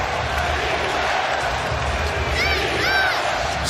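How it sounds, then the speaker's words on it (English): A sold-out NBA arena crowd during a 2022-23 regular-season game, dense steady roar throughout with sneaker squeaks on the court near the end. "Sold out crowd. Nobody's left the building tonight."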